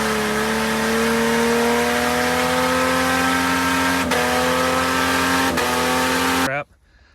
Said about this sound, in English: The iconic 4-liter AMC base Jeep motor. Runs great.